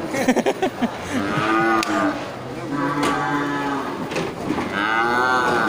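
Deep, drawn-out mooing from a pregnant water buffalo close by in a truck, a few long bellowing calls in a row, starting after some short thumps.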